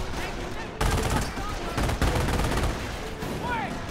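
Gunfire in the strategy game Company of Heroes, a dense crackle of rifle and machine gun shots with sharp louder bursts, steady throughout at moderate level.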